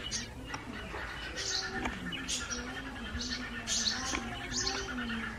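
Sparrows chirp near their nest in a busy series of close, high, repeated tweets over a steady background hum.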